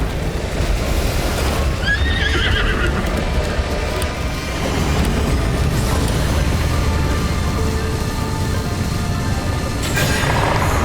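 A horse in Zelda: Breath of the Wild lets out a loud whinny, then gallops with rapid hoof clatter among game effects and rumbling background sound, with no voices.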